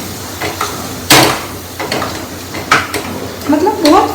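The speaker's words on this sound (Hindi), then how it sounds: "ये जो टिंडे हैं ना, इन्हें मैश करना है" Repeated soft thuds and scrapes of a masher pressing cooked ridge gourd in a pan on a lit stove, irregular and close, with light sizzling and a voice in the background.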